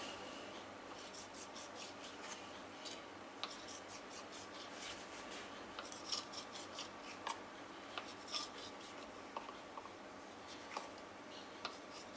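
A knife cuts squares of puff pastry for a bakery-style recipe, making faint, repeated scraping and light ticking strokes against a cutting surface in a quiet kitchen.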